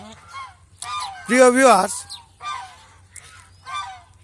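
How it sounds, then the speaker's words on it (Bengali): Geese on a goose farm give several loud, close honks in separated bursts, one long harsh call standing out, while someone briefly speaks between the calls. "আমার এখানে যে হাঁসগুলি দেখছেন,"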